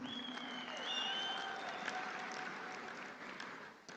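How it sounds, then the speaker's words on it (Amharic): An audience at the TikTok Creative Award Ethiopia 2025 ceremony claps in a sustained, even wash of applause, with faint tones ringing over it before it tapers slightly at the end. "እስቲ አንድ ጊዜ አጨብጭቡ ፕሊዝ።"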